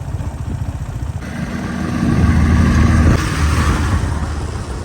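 A motorcycle engine sputters and catches, then runs with a rough, throbbing idle that swells louder, heard close up.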